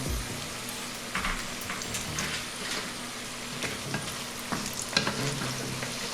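Asparagus frying in hot grease, a steady bubbling sizzle with soft crackles and occasional stirring clinks, close up and alone.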